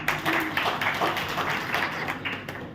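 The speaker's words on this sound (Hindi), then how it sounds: "देखो, जोरदार ताली।" An audience at a protest-movement gathering breaks into loud, continuous applause, dense rapid clapping that holds steady for a few seconds with no talk over it.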